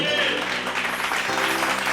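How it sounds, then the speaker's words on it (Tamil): Audience at a Bible study gathering claps together in steady, moderately loud applause for a couple of seconds, with no voice over it. "கைதட்டு."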